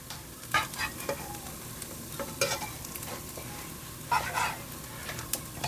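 Parmesan cheese crisp sizzling in a pan while browning, a steady frying hiss with a few sharper crackles and soft stirring scrapes, fairly close and without talk.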